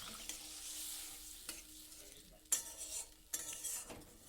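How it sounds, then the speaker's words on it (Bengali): Water goes into fried spice paste in a pan, bringing a soft sizzle and frying hiss with a few sharp utensil clinks against the pan, all fairly quiet and close. "এবার ওর মধ্যে আমি জল দিয়ে দিলাম।"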